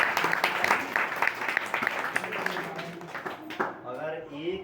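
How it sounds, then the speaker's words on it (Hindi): An audience at a children's religious class claps together for several seconds in a steady patter, the applause fading as a voice begins speaking. "इनके सम्मान में तालियां बजाओ।"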